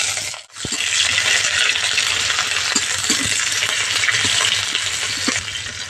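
Chopped onion tipped into hot oil with garlic in a pan, frying with a steady loud sizzle and occasional crackles and pops, preceded by a brief dip as the onion goes in; no talking.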